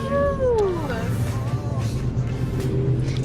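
A cat gives one drawn-out, falling meow, followed by a fainter second cry, over a low rumble of a moving vehicle.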